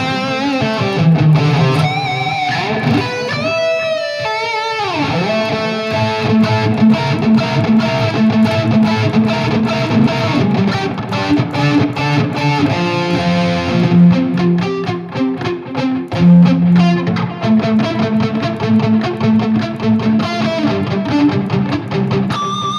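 Distorted electric guitar run through a Valeton GP 200 with reverb, feeding a Boss Katana head and Marshall 1960 vintage cab captured by an SM57; a long, loud passage of chords and melodic lines with a lingering wash of reverb, no voices.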